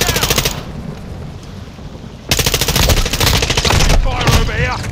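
Rapid automatic gunfire bursts in Call of Duty Modern Warfare 2 multiplayer, loud and close, a steady stream of shots that grows denser partway through, with brief voice callouts mixed in.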